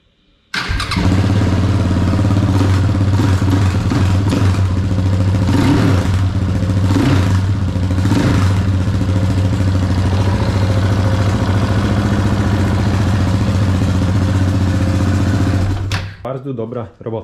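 A KTM Duke 690 motorcycle, after an injector replacement, runs loud and close with a deep, steady thumping idle and a few short revs, holding for about fifteen seconds before abruptly shutting off.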